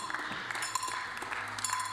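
Crowd at a 10m air rifle mixed team match keeps up a continuous patter of clapping and chair tapping, moderately loud, with a few sharper taps standing out over the steady wash.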